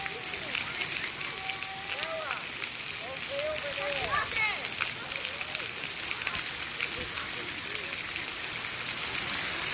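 Splash pad buckets fill with water and tip it over children, a steady rushing splash with scattered higher squeals and voices of kids playing outdoors over it.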